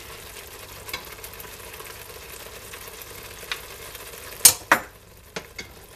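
Diced tomatoes being stirred into a traditional fish stew in a pot: a quiet, steady bubbling and scraping backdrop, then a few sharp clinks and knocks of the spoon against the pot near the end.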